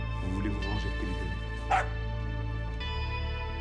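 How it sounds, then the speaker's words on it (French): A dog trained to bark on a cue word gives a few short yips and barks early on, heard over a continuous low hum and background sound. "je lui ai appris à aboyer quand il entendait ce mot-là"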